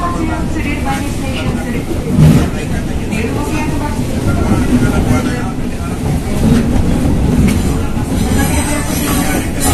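A commuter train runs from Matraman station toward Sudirman, with a continuous rumbling rattle of the carriage and wheels, steady and close, while people talk nearby throughout.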